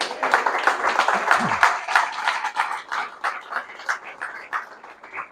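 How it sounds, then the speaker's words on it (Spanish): A church audience applauding, a dense burst of close clapping that holds steady and then thins out toward the end. "Yo creo que eso merece un aplauso."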